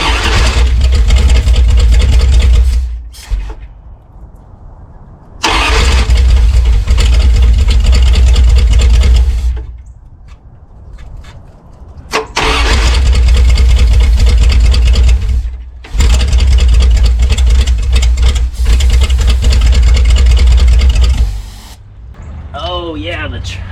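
A 318 Magnum V8 engine running on brake parts cleaner starts and revs in several loud, roaring bursts, each a few seconds long, cutting out between them. A voice talks in the gaps.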